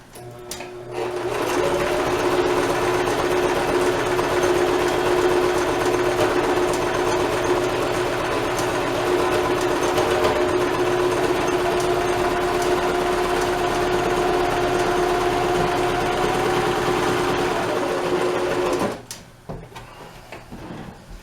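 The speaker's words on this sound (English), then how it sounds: "I'm going to go back to a straight line stitch." A sewing machine runs a straight stitch to sew elastic into sweatpants: a loud, steady whirring drone close by that lasts about eighteen seconds, then stops, followed by faint handling noises.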